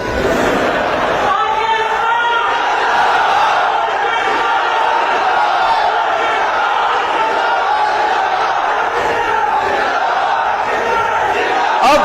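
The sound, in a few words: crowd chanting slogans at a political speech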